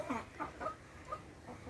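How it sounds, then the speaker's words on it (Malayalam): A hen clucks softly in a short series of quiet, irregular calls, faint and close in a calm outdoor setting. "പാവം കോഴി."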